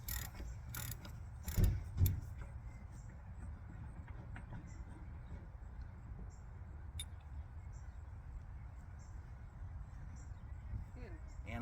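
A ratchet with a 1 1/16 socket cracks loose the anode rod on a travel trailer water heater: a couple of clicking, clunking bursts near the start, then low background hum and faint mechanical noise.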